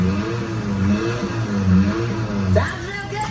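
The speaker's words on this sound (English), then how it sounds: "Just listen to that engine purr." A car engine runs at a service station, with a steady low-pitched drone that rises and falls slightly, ending in a brief revving swell.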